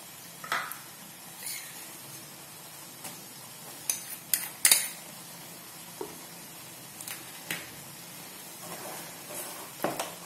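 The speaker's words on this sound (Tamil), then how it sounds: "இதுல கட்டியா இருக்கிறதெல்லாம் நல்லா இந்த மாதிரி கிளறி விட்டுக்கலாம்." A utensil stirs thickening milk white sauce with cheese in a pan for pasta, with soft squelchy scraping broken by scattered metallic clinks against the pan, heard close and without speech.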